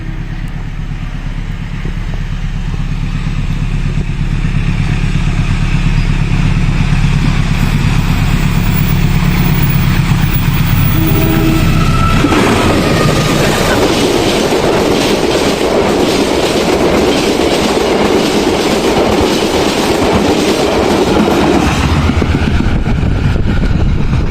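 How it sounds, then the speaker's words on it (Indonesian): Probowangi passenger train passing through Malasan station in Indonesia, a loud close roar that swells midway into steady clattering of wheels on rails, continuous with no talk. "KA Probowangi ini akan melintas di stasiun Malasan mengejar KA Pandalungan"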